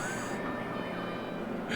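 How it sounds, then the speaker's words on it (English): Pit lane speeding alarm in a GT3 racing video game, a steady electronic tone sounding continuously over engine noise. "Sets off the pit alarm."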